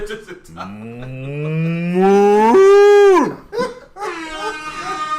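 A person imitates a cow mooing with a loud, drawn-out, rising moo that swells and then drops off, followed by a shorter second moo.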